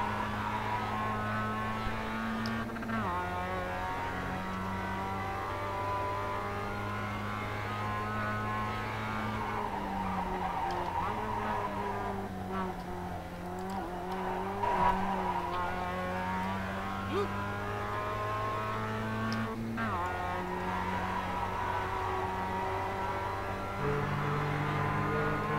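Simulated Mazda MX-5 Cup race car in iRacing, its engine droning steadily with gear-change steps while tires scrub and squeal faintly through corners, a continuous loud in-car engine note throughout.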